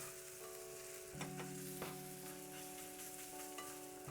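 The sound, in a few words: garlic frying and being stirred in a pan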